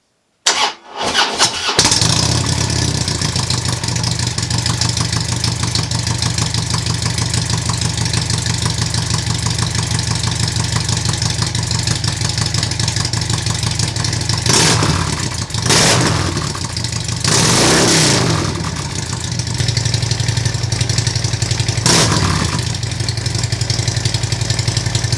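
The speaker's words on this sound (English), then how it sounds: "What do the Cobra Neighbor Haters sound like with the baffles still installed?" Harley-Davidson Road Glide with Cobra Neighbor Haters exhaust, baffles still fitted, starts up and then rumbles loudly at idle with a deep steady throb. A few brief throttle blips rise above it, and nobody speaks.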